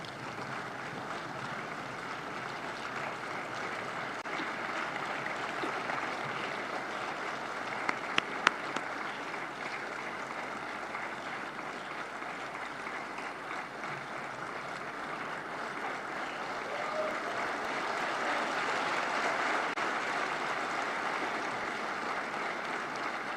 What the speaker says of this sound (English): kindly please rise as we welcome our guests of honor with a